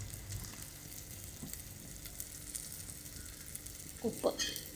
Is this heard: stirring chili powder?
yes